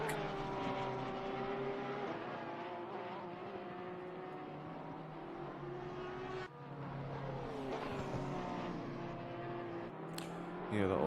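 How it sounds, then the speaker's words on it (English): Race car engines from a racing video game at Watkins Glen drone steadily throughout, with a sustained harmonic whine that shifts pitch as cars run, while someone talks over the top. "So hopefully you guys can hear me over the top of the engines."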